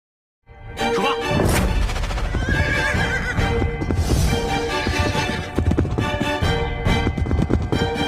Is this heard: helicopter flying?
no